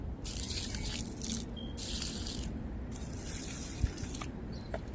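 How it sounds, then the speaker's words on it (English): Water poured by hand onto two newly planted tomato plants in a backyard garden, a steady splashing and trickling wash that runs nearly the whole time with brief pauses, close and moderately loud, no talk. "Let's see if I can reach over there to pour the water"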